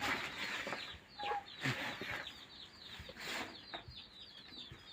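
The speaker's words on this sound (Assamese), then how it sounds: "কুকুৰা পোৱালি কেইটা আছে?" Chickens and young chicks at a village cluck in short, scattered bursts at moderate distance, with soft rustling between the calls.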